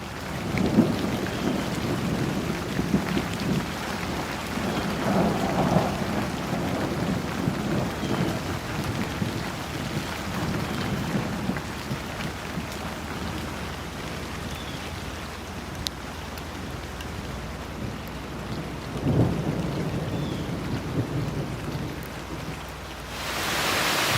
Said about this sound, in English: So the rain is really coming down now. It's just pouring outside.